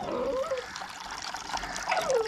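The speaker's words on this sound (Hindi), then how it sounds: "तो मैं ऐसे डालने लगा हूँ जी पानी" Water poured by hand from a container outdoors near a house corner, a steady trickling splash running close and fairly loud throughout with no speech over it.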